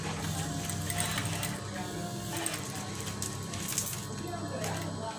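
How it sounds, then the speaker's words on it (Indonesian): A sewing machine stitches fabric for a wave-style curtain in a steady, continuous mechanical whir with a light rattle, close and fairly quiet, and no speech over it. "Lalu kita jahit."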